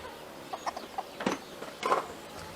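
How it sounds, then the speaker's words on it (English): Chickens cluck contentedly over a treat, a few soft scattered clucks and low murmuring calls close by, with two louder bursts of clucking standing out over quiet background. "Those are some very, very happy chickens."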